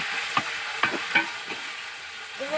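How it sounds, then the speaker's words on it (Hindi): Onions with ginger garlic paste frying in a pot for Karachi-style student biryani, a steady hiss of sizzling oil broken by a few soft scrapes and stirring knocks, close and alone. "हम इसके अंदर अदरक लहसुन का पेस्ट डालेंगे"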